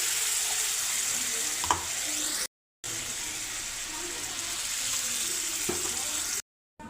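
About one and a half glasses of water poured into a sizzling besan curry masala in the pan, giving a continuous hissing, bubbling rush with a couple of brief clunks, heard up close and without talk.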